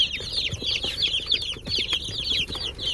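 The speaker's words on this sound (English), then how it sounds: "So these are all the chicks." A box of young meat-bird chicks just picked up for a homestead, a busy chorus of high, overlapping peeps and cheeps close by, continuous with small rustles and no talking.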